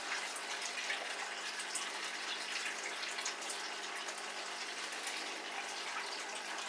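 Water gushing and sloshing steadily as the pump of a Dyson Contrarotator CR01 washing machine drains the drum during an 85-degree cottons test wash, a continuous faint hiss throughout.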